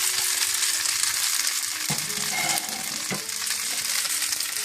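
Vegetarian hakka noodles with green onion are stir-fried in a pan. The sizzle is steady and close, with scraping and tossing sounds from stirring throughout.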